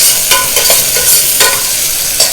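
Sliced onion and green chillies sauté loudly in hot oil in a pan for chicken curry, with a strong steady sizzle and several scraping stirs, no talk.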